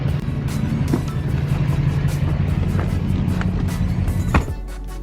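A 2007 Chevrolet truck with an LBZ Duramax diesel engine drives along a country road. It makes a steady, loud low drone with a brief knock near the end.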